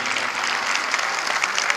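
Brief, dense applause fills a hall after a child's stage performance, a steady wash of clapping from a sizable audience with no voices over it.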